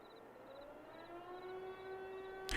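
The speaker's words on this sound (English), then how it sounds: "This air raid siren." A civil defense air raid siren in the video game Farming Simulator 22 wails with a slowly rising, steady tone, fairly faint and distant, before a sudden loud burst cuts in at the end.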